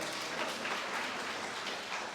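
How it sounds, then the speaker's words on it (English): A town hall audience applauds, a steady, dense wash of clapping from a crowd heard at moderate distance, with no talk over it. "you can clap on that"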